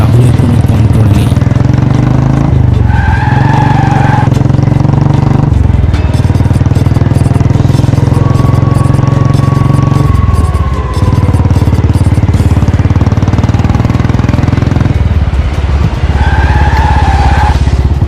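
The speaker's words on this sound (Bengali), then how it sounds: "হঠাৎ বাইকের ইঞ্জিন নিজে থেকে স্টার্ট হয়ে গেল এবং কোনো কিছু ছাড়াই বাইক নিজে থেকেই এগোতে লাগলো, খুব স্পিডে।" An animated motorcycle engine starts on its own and speeds away, heard as a loud, continuous revving drone that rises and falls in pitch with a few clattering bursts, and no voices.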